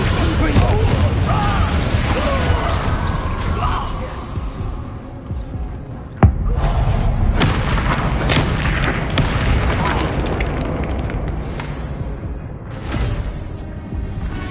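Spells cast in Hogwarts Legacy, with a dense, loud wash of magical bursts, booms and crackling effects running continuously, one sharp impact standing out midway, and game music and effects layered throughout.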